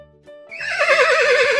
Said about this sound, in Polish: Tak, to jest konik.